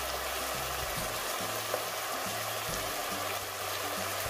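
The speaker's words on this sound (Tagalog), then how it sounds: "Ayan lang muna natin maprito yung yung bawang tsaka yung ginger." Garlic and ginger frying in reused oil for Filipino arroz caldo, a steady close sizzle that stays even and unbroken throughout, with no talking over it.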